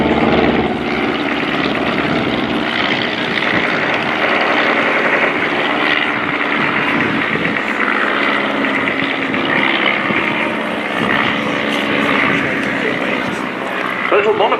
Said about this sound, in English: the Junker CL-1. This is based on a Bowers Flybaby light aircraft, this replica